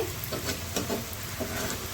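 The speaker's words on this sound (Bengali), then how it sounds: "যে সুন্দর করে গাজরটা বাজছে এখন নামাই" Carrot pieces frying in a pan, a steady close sizzle with brief scraping stir strokes, no voices.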